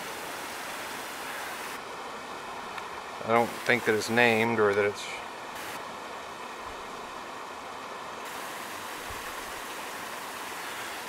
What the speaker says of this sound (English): There's a cascade across the way.